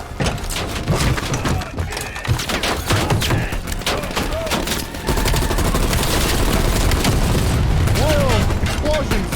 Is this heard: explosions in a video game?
yes